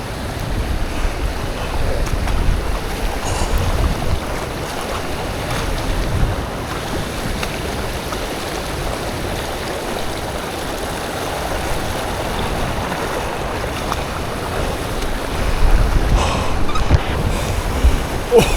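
Wading on foot through a cold snowmelt mountain stream while bikepacking in Greece, with rushing water and steady splashing close by and wind buffeting the microphone throughout, louder toward the end.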